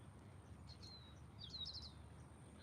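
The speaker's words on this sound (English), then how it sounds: "I hear you chirping up there." Faint, distant birds chirping outdoors, a few short high tweets and a brief trill over a low steady background rumble.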